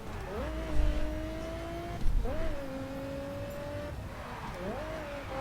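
Lotus Exige S sports car driven in the racing game The Crew, its engine revving up in three repeated rising pulls with gear shifts between them, loud and close with a low rumble underneath.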